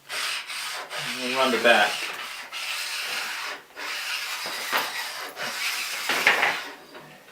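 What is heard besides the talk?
honing an ice blade on a sharpening stone's coarse side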